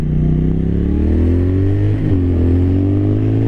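A 2023 Triumph Thruxton RS Chrome Edition cafe racer accelerates hard. Its engine revs up in a loud, steady rising drone, with a brief dip around a gear change before it climbs again. The sound is close and continuous, with no talking.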